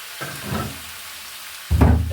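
Tomatoes and green pepper tipped into a beef stew pot, giving a short burst of sizzling and frying, then a louder second burst of hissing and stirring near the end.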